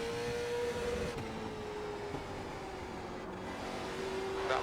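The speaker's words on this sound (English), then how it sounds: "There's a car leaving the pits." A late model stock race car in iRacing pulls out of the pits, its engine a steady tonal drone whose pitch slides gradually downward, faint and continuous without talk.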